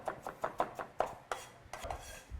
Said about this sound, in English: can you cut green onion for me?